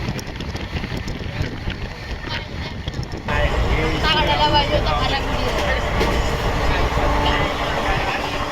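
A passenger train runs on toward Shegaon station on a foggy morning, a loud, continuous rumble and rattle of the carriages with wind buffeting the microphone and voices talking over it.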